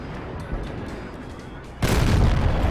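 A T-34 heavy tank's cannon fires in a tank video game, a sudden loud boom erupting near the end after a stretch of low rumbling engine and battle ambience.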